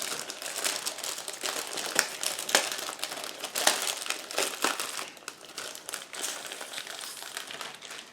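Plastic packaging of an Academy 1/72 P-47D Thunderbolt model kit being opened, a steady run of close, crisp crinkling and rustling with sharper crackles scattered throughout, no voices.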